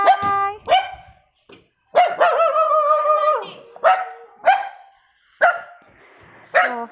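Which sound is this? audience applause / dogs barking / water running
dogs barking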